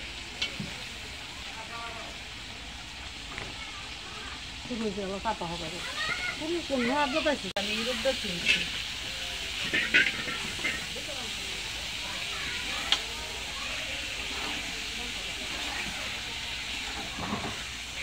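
Meat sizzles and fries in a pan while being stirred and browned with potatoes nearby, a close, steady hiss with scraping stirring sounds, and a voice speaking over part of it.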